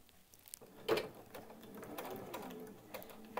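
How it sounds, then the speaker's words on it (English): A sewing machine stitches a seam on a batik fabric bag from corner to corner, a soft continuous mechanical whir with light rhythmic ticking, steady and close, with no talking over it. "we are just going to stitch from one corner to the other, making sure that we capture all of that seam allowance"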